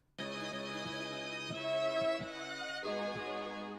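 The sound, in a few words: spy-film style music beat sample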